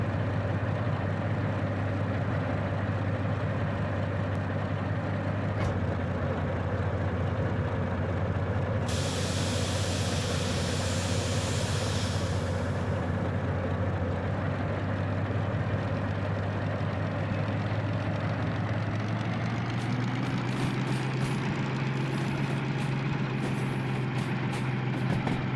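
A diesel locomotive in the game Derail Valley labours up a hill, a loud steady engine drone with a hissing burst partway through and a rising pitch toward the end, no voices.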